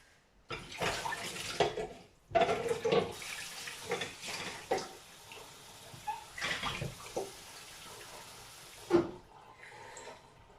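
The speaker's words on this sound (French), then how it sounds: "Je lui rajouter un peu d'eau et je le mets à cuire." Water poured into a cooking pot of soaked plums for a tajine, several splashing pours and trickles in uneven bursts, close and fairly quiet.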